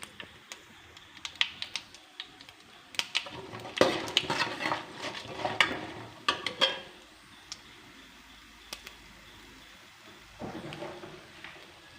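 Mustard seeds with chana dal and urad dal tempering in a pan for a rava breakfast dish, giving scattered sharp crackles and pops in bursts, denser in the middle and sparser toward the end, heard alone.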